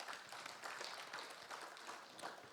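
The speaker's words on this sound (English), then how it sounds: "Please give yourselves a round of applause." Audience applause at a Nigerian Society of Engineers lecture, a steady wash of many hands clapping throughout, moderately distant and even in level, with no clear pauses.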